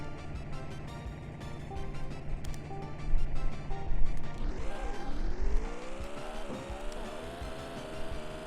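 Race cars in the Super Nintendo game Top Gear 2 on a wet track, a buzzy engine drone that rises in pitch and sweeps as cars accelerate and pass, with music-like tones layered over it.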